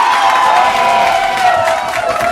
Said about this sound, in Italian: vogliamo sentire un altro applauso